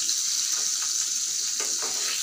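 Chicken frying in a pan gives a steady, close sizzle that holds evenly from start to finish, with a few brief crackles rising above it.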